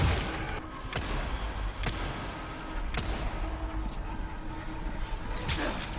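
Pistol shots in Resident Evil 4 Remake, a string of sharp, loud cracks fired at uneven intervals over a dense, continuous background of game noise.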